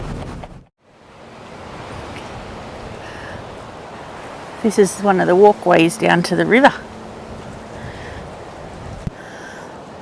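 Strong gusty wind at a low-cost riverside campground roars steadily across the microphone as broadband rushing noise, with a voice speaking briefly over it midway.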